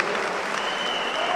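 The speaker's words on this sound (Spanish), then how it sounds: "¡Aplausos, por favor, público!" Crowd applause fills the stands at a basketball tournament game in Tlaxiaco, a steady dense clapping that holds at even loudness throughout without a break.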